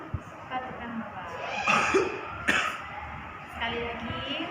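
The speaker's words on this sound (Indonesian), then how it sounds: "tarik nafas, tahan, batukkan Bapak." A patient gives a few short coughs during an effective cough breathing exercise, spaced apart, close by, with an instructor's voice and some breathy sounds between them.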